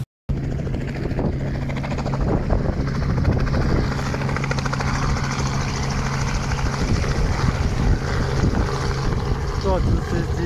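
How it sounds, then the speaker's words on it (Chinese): Helicopter running at a helipad on the Great Ocean Road, a loud continuous rotor and engine roar close by, with people talking faintly beneath it. "坐直升机看大洋路。"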